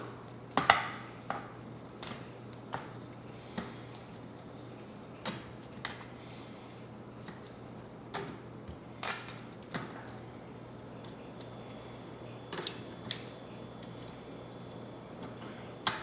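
Cajun chicken wings being flipped on a foil-lined baking pan, giving a series of light, sharp clicks and taps scattered at irregular intervals, fairly quiet over a steady low hum.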